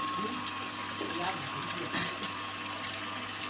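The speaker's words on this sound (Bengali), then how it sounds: "এটা মাছটা ধুয়ে নিচ্ছি। আমাদের মাছ ধুতে হবে ভালো করে।" Small pond-raised rohu fish are rinsed in water, with a continuous splashing and sloshing wash under a steady mechanical hum, while a person speaks over it.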